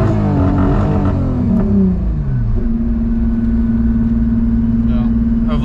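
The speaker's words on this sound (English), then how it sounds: "I can do launch control while I'm driving. So just hit the button." A car pulls away using launch control, its engine note climbing and shifting over a few seconds before settling into a steady drone, with someone talking over the engine.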